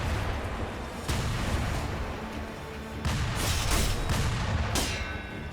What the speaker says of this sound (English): I was waiting to see when the next gunfire.